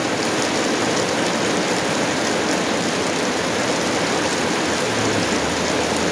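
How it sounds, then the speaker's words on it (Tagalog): Heavy rain pours steadily in a dense, continuous hiss with no pauses. "Grabe yung ulan."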